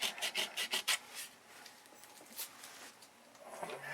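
Light wood for a model airplane fuselage is sanded by hand in a quick run of about six rasping strokes, followed by softer, scattered rubbing, close and fairly quiet with no talking.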